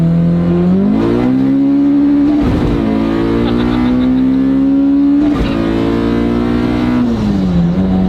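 Turbocharged Honda Civic at a drag race, its engine roaring loud and close as it accelerates hard, with pitch climbing and dropping through several rapid gear changes and no talking.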